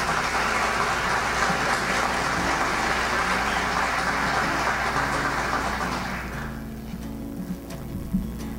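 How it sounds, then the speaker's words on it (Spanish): Strong applause at a civic medal ceremony welcoming an environment minister, a dense, sustained burst of clapping that thins and fades near the end, leaving a low hum of room noise. "Lo recibimos con un fuerte aplauso."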